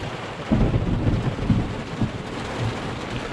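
A heavy Texas thunderstorm rumbles outdoors, with low thunder rolls near 0.5, 1.5 and 2 seconds over a steady wash of rain hitting surfaces, fairly loud and continuous with no talking.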